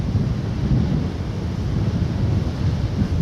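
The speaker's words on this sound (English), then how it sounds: "Wind's picking up again" Steady, loud wind buffets the microphone on an exposed coastal ridge line near West Lulworth, a continuous low roar with no voices, lasting the whole stretch.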